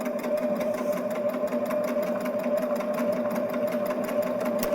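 A Baby Lock Jazz II sewing machine overcasts a fabric edge with a steady, continuous whir of stitching that holds at an even, close level throughout, with no talk over it.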